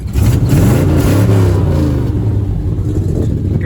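A car engine revs hard under full throttle, loud and close, its deep growl rising and then settling over nearly four seconds; the engine has an occasional slight misfire.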